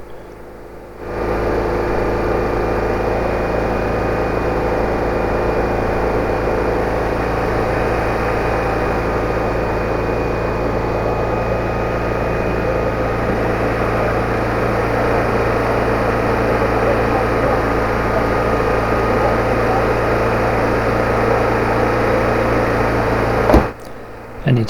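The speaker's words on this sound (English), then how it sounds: "this engine was going too fast for me" A Citroen 2CV6 engine, just restarted with a jump start, runs steadily at a fast idle, a close, constant buzzing drone that holds for over twenty seconds.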